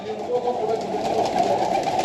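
Soft, low coos of loft pigeons murmuring continuously, several birds close by with a faint rustling background.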